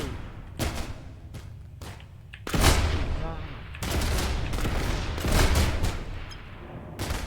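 Gunfire in the sandbox video game People Playground comes as loud bursts of rapid shots and booms with short gaps between them, while a voice speaks over part of it.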